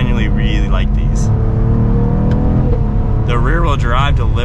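A 2022 Cadillac CT4-V Blackwing's engine drones loudly on a test drive, its pitch rising and falling with throttle changes as a voice talks over it.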